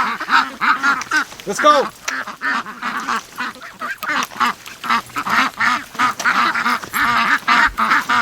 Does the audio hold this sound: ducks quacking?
yes